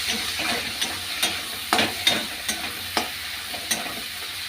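Dried fish curry cooking in a pan with onion, tomato and coriander leaves: a steady sizzle broken by regular stirring scrapes and knocks every second or so, close and moderately loud, with no one talking.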